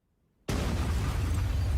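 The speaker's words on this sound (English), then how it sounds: "That was such a small grenade for such a big explosion." A grenade in the video game Arknights goes off after a moment of near silence: a sudden, loud burst followed by a sustained, rumbling roar that holds at full strength to the end.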